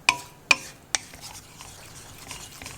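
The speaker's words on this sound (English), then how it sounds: "Mix it well and roast this for 30 to 40 seconds" A spoon knocks and stirs in a kadai while mutton masala and chili powder roast in oil, three distinct metallic taps followed by faint scraping and soft sizzling.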